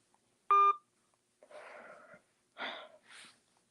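A single short telephone keypad tone sounds while a phone call is redialed, followed by a few breathy, rustling bursts close to the phone.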